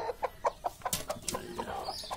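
Native hens brooding eggs in a coop, a near series of rhythmic clucks followed by a busier burst of squawks and chatter, alone without talk.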